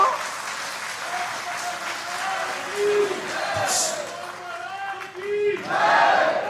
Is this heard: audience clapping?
yes